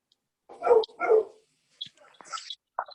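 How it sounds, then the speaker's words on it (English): Several dogs barking in the background, two loud barks up front followed by scattered fainter yips and whimpers, with no one talking over them. "dogs in the background"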